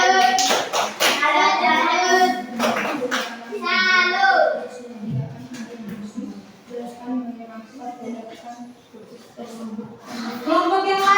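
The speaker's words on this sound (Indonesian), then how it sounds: "Yang lain tepuk salut untuk kelompok" Primary-school pupils clap together in a rhythmic group salute for their classmates. A short burst of sharp claps comes near the start, then children's voices chatter over scattered taps.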